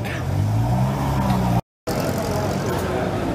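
A classic NSU 1200 TT drives by at an oldtimer rally, its engine a steady low rumble with broadband road noise throughout, broken by a brief cut in the sound partway through.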